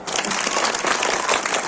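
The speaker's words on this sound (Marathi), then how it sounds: "वाजवा टाळ्या." Steady audience clapping fills a Marathi lecture hall for about two seconds, a dense, even patter of many hands with no voices over it.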